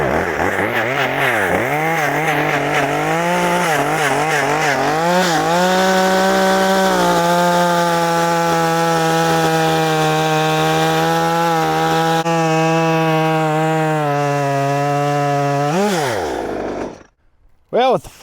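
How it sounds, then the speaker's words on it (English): A loud Stihl 194 top-handle chainsaw with a 14-inch bar revving and cutting through wood close up, engine pitch bogging under load, then dropping off and stopping near the end. "let's chunk it up with Stihl 194 top handle."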